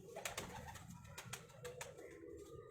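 Long-feathered fancy pigeons in Lahore cooing softly at a distance, with repeated low murmuring calls over faint ambient noise and a few brief sharper sounds.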